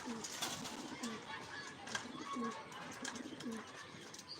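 Pigeons let out of their loft in the afternoon coo softly in repeated low calls, faint and somewhat distant, with a few chirps and light background voices.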